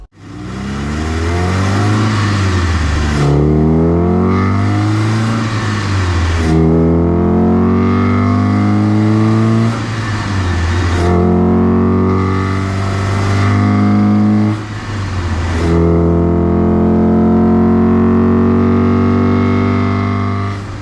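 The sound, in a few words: Opel Kadett E GSI C20XE engine revving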